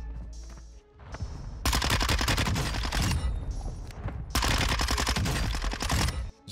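Close, loud SMG fire in Warzone 2, two long full-auto bursts of tightly packed shots separated by a short pause, with scattered lighter shots before them.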